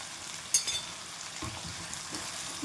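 Potato, onion and carrot fry quietly in a pan, giving a soft, steady sizzle with a sharp clink near the start and a few faint stirring scrapes.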